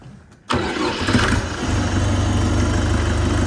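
An SD 404 PRO mini tractor engine cranks and catches abruptly, then settles into a steady, loud idle with a low rumbling throb close by.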